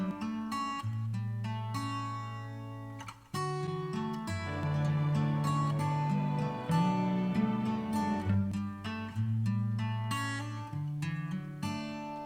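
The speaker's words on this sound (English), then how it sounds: "So this is where the strings come in." Soloed string section track from the mix of an acoustic guitar song, with sustained bowed chords that swell and shift in slow phrases, clear and upfront with no voices.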